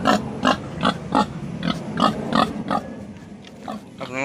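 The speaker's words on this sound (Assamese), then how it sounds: "এই গাহৰি মাত লগাইছে" A pig at a village home grunts close by in a series of short, rhythmic bursts about every half second, fading out toward the end.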